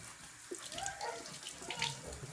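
Tap water runs steadily into a sink while hands are wetted, a soft continuous splash with small shifts as the flow is interrupted, fairly close and quiet.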